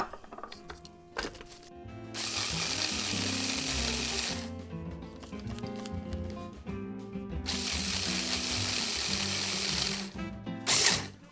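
Kitchen blender grinding one and a half cups of oats into oatmeal flour, a loud, steady motor whir with a rattling grind that surges and dips over several seconds, then cuts off.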